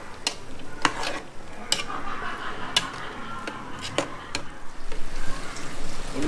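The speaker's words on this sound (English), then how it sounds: "So I'll fry the onions through for a couple of minutes" Onions fry in a pan for a Scouse-style Nigerian beef stew, giving a steady sizzle broken by repeated sharp clinks and scrapes of a utensil against the pan, with no talking.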